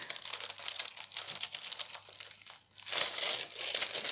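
Tissue paper crinkles and rustles while a Glossy Box beauty subscription box is unpacked, with close, busy crackling and a louder burst of rustling near the end.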